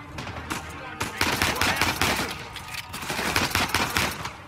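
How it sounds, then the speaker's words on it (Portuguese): Rapid automatic gunfire in the video game Uncharted 4, dense bursts of shots crackling continuously and loudly through the whole stretch, with faint voice in the mix. "Não sei de onde que tá vindo os tiros."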